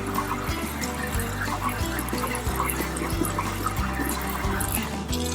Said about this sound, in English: go ahead and spray them down with some really cold water